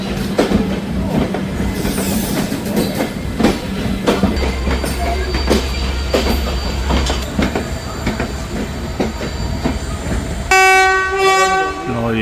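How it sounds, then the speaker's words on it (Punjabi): Train rumble and clatter with a few voices nearby, then a loud, sustained diesel locomotive horn blares near the end. "ਹਾਰਨ ਹੋ ਗਿਆ ਤਿਆਰੀ ਆਪਣੀ ਗੱਡੀ ਦੀ"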